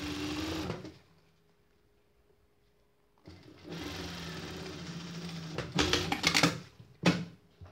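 Sewing machine stitching bikini fabric, sewn on the wrong side, with a steady close mechanical whir that stops for a couple of seconds, then resumes with faster uneven bursts and a few sharp stops and starts.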